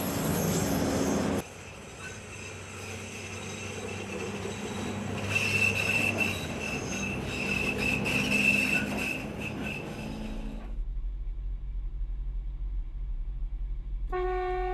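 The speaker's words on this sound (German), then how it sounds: "Nach Durchquerung des Isartunnels fährt der Zug über den Isarviadukt." A mountain railway train on the Zackenbahn in the Riesengebirge rumbles steadily along the line, its wheels clattering and squealing at moderate loudness before the sound drops into a low hum, then a brief horn-like tone sounds at the end.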